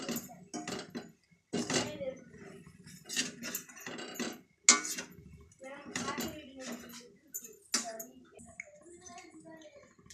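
Shredded parotta pieces being stirred in a pan for egg parotta, with irregular scraping and clinking of a utensil against the pan in short bursts, fairly close, while a person talks over it.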